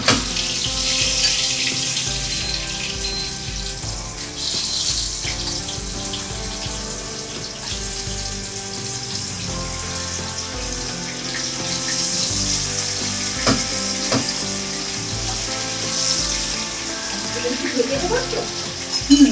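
Shol fish frying in oil in a home kitchen, steady crackling sizzle with scattered pops and spatter, close and continuous, with occasional stirring clatter.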